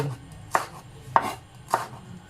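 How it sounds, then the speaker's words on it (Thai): A knife chopping red chili peppers on a board, three crisp, evenly spaced chops ringing out close and alone. "หั่นไปเลย"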